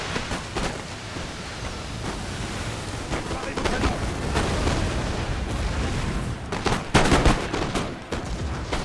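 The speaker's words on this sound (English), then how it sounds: "Always like a bit of gunfire." Dense bursts of musket and artillery fire and explosions over a constant roaring wash during a siege battle in Napoleon: Total War, with louder sharp cracks clustering near the end.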